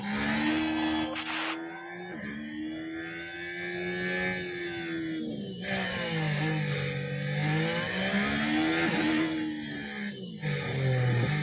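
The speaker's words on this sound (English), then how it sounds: "Let's get some lovely engine noise as the rest of the cars cross the line" Formula 1 cars in the F1 Manager 23 video game roar past as they cross the finish line, a continuous high-pitched engine wail that rises and falls in pitch as cars pass, loud and sustained with no talk.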